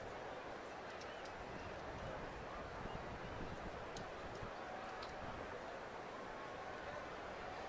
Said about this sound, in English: it's just windy tonight here